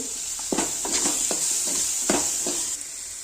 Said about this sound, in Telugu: కొద్దిగా నూనె వదులుకోవాలి బాగా కలపాలి కరివేపాకు మూడు పచ్చిమిర్చి